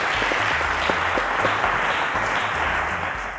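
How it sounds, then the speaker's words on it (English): Sustained audience applause in a televised school quiz competition, dense steady clapping filling the hall over faint background music and fading slightly at the end. "A round of applause to Emmanuel."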